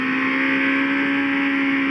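Honda 400X motorcycle from 2013, its two-cylinder engine held high at around 8000 rpm in a low gear, giving a loud, steady, sporty rev with a strong sustained tone and no voices.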